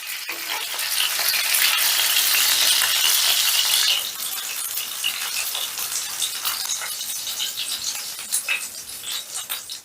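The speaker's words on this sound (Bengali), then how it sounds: "এবার এই পিঠটাকেও এরকম লাল লাল করে ভেজে নেবো" Rui fish tail frying in hot oil, with a loud, dense sizzle for the first few seconds that eases into lighter crackling and spitting, no voices.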